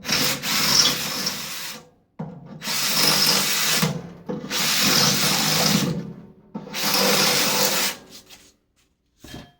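A power drill bores out holes in a metal plate in four sustained bursts of loud whirring and grinding, each a second or two long and separated by brief pauses.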